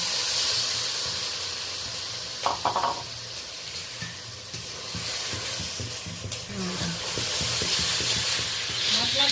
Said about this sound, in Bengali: এই পর্যায়ে আমি মশলার পেস্টটা দিয়ে দেবো